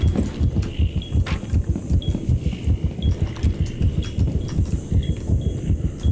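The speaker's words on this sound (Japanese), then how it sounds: "心臓の音消えへん" Heartbeat sound effect in a first-person shooter video game, a loud, steady, low thumping pulse repeating throughout with faint game sounds above it.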